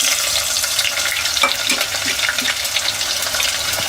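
Onions frying in hot oil in a pan for a prawn and brinjal curry, giving a steady, loud crackling sizzle throughout with a few sharper pops and spatters.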